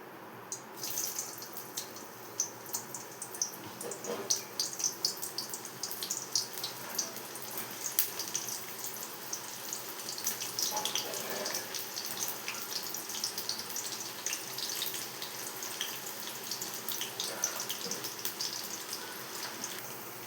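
Onions fry in heated oil for a chicken gravy curry, giving a continuous crackling sizzle of fine pops and spits that stays steady throughout, close and fairly quiet.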